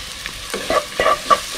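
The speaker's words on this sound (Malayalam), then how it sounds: "മുട്ട നല്ലതായിട്ട് ഒന്ന് ഫ്രൈ ആയി വരട്ടെ" Egg frying in a pan while being stirred, with a steady sizzle and a quick series of close scraping, tapping strokes of the utensil against the pan, without speech.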